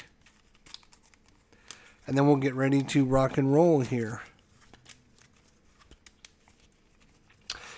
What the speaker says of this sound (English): we'll shuffle it up his deck